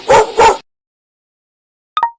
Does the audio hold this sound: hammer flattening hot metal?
no